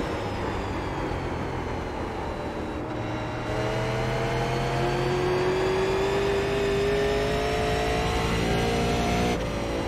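A Super Late Model race car engine in iRacing drones steadily, its pitch climbing through the rev range and dropping back at each gear change, loud and continuous with no talking.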